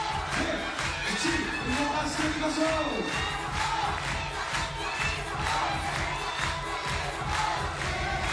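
Crowd cheering and shouting at a 3x3 basketball Olympic qualifying game between Japan and Brazil, a continuous roar of many voices with rising calls, sustained and fairly loud throughout.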